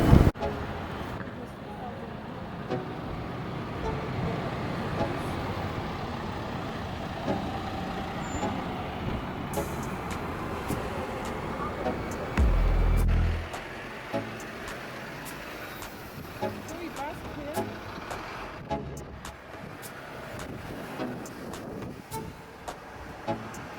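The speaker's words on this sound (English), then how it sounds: "We are at Lüneburg bus station, and actually I'm just walking towards town." Traffic at Lüneburg bus station in Germany: a steady low rumble of buses and engines close by, with a brief louder pass midway and scattered clatter from the street.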